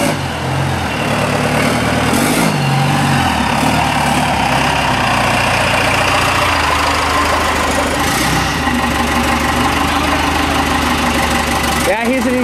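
A Ford F150 pickup's engine runs loud and close, rumbling steadily and rising as the throttle is pressed, with voices faintly underneath.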